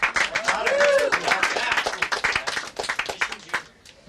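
Audience applause at a magic show at the Magic Castle, a dense wash of clapping with some crowd noise, loud at first and tapering off toward the end.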